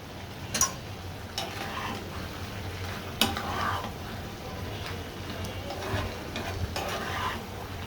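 Dried fish (shutki) frying in a pan, a steady close sizzle with intermittent scraping stirs and utensil clicks against the pan.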